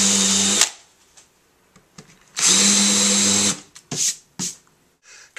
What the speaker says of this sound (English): I'm going to go through and just drill and countersink a few more holes to hold the mahogany frame in place.